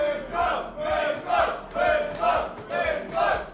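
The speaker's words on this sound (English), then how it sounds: "I think Evesy is feeding off the crowd" A crowd at a Classic Tetris World Championship UK regional bracket match chants and cheers in loud rhythmic swells, about four surging pulses at a steady beat.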